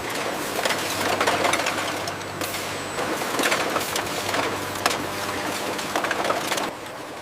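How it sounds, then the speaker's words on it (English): Continuous machine clatter from high-speed labeling rollers on a pineapple wine bottling line, with busy mechanical rattling, scattered sharp clicks and a steady low hum filling the factory throughout. "High-speed rollers apply the labels with millimeter precision."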